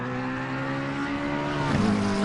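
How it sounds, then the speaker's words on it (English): A McLaren GT3 race car engine at Mount Panorama in a racing video game drones with a steady low growl, holding a constant note before a brief shift-like dip near the end, loud and continuous with no talk. "Such a low grunt the McLaren GT3 has"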